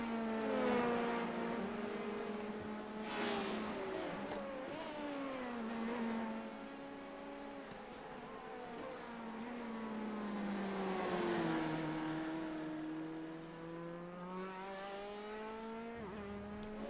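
Race car engines in a racing video game on the Mid-Ohio track, several cars running close together near the final lap: a continuous, loud, layered engine drone whose pitch repeatedly climbs and drops through shifts and corners, with no voices.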